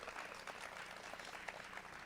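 Audience applause fills a community college storytelling faculty concert, a steady patter of clapping hands from a seated crowd, fairly faint and continuous throughout.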